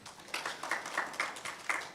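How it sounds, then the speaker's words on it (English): Audience applause after a speech at a regulatory authority launch event, a thin scattering of claps with a few sharper individual hits, moderately close and continuous for about two seconds. "Please give both of them a round of applause for me."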